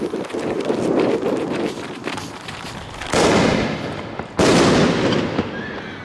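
An Alfa Big Shot firework goes off in a residential neighbourhood, with crackling pops followed by two sharp, loud bangs a second or so apart, each trailing into echoing decay between houses.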